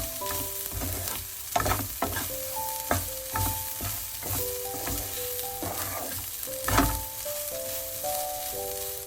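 Ivy gourd stir fry with grated coconut being stirred in a hot pan, a continuous sizzle broken by repeated scraping strokes of a spoon, with a faint tonal hum in the background.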